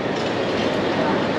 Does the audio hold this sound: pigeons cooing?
no